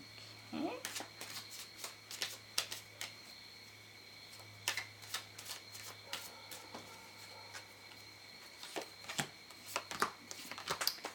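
Quiet card shuffling of a tarot deck, a run of soft crisp riffles and flicks spread through the clip with brief pauses, heard close with a steady low hum beneath and no talking.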